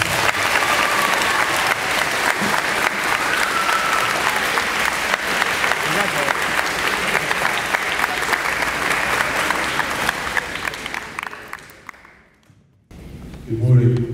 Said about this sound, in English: Please give a round of applause for Naomi Tellman.